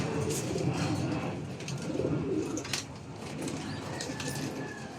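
Racing pigeons coo softly in a loft amid a dense, steady bed of bird noise and rustling, with a few sharper sounds breaking through.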